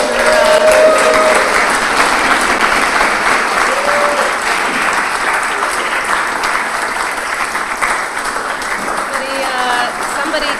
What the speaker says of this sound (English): So come on down and please take a round of applause